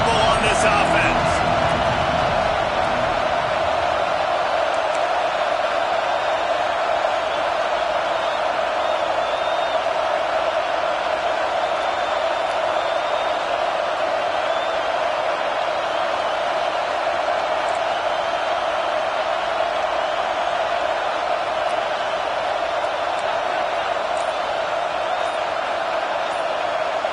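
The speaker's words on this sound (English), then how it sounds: "this crowd is making it miserable on this offense" Steady roar from a stadium crowd at a Georgia college football game on a fourth-down play, loud and unbroken throughout, with a broadcast voice talking over it.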